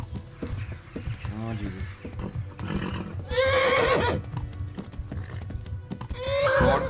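Horse whinnying loudly several times in the game Kingdom Come: Deliverance, with hoof clops underneath and someone talking over it.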